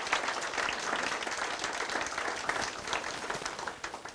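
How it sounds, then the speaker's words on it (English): An audience at an education commission meeting claps for a speaker, a dense, even patter of many hands that fades slightly toward the end, moderately distant and without talk. "Give him a round of applause."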